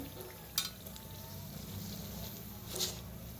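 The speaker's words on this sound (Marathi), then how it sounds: "दोन्ही साईडने छान असं तळून घेऊया काढून घेऊया" Mangalore banana buns frying in hot oil, a soft continuous sizzle with two brief sharper spatters or stirring clinks, fairly quiet and close, no talking.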